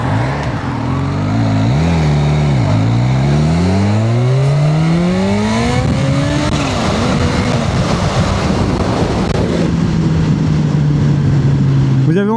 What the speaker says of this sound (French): petit compresseur là, quand il décharge?